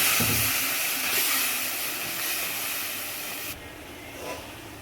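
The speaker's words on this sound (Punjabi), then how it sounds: "ਅੱਧੀ ਗਲਾਸ ਆਪਾਂ ਪਾਣੀ ਪਾਤੀ" Half a glass of water poured into a hot ground masala tempering for restaurant-style soya chaap gravy, giving a loud, steady broadband sizzle and hiss that eases slightly toward the end.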